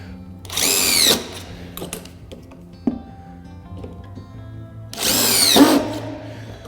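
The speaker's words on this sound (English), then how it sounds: "This drill bit has got a shank on it which aligns there, which stops you from over tightening or over trying to push the screw in deeper" A power drill drives screws into timber decking boards in two loud, whirring bursts of about a second each, separated by quieter handling clatter and a sharp knock, close to the listener.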